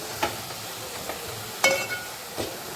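Vegetables sautéed in a pan over a high gas flame, heard as a handful of brief, sparse spatula scrapes and clinks against a quiet, hissing background.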